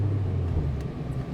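Steady low engine drone from the inside of a car on an expressway at rush hour, the tone holding even with no clear rise in pitch, and no talking.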